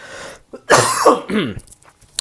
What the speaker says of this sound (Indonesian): Aku numpang batuk dulu, boleh ya guys?